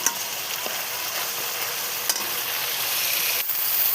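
Spice paste for a potato and pea curry fries in oil, a loud, steady, broadband sizzle filling the whole stretch with a few faint clicks of stirring.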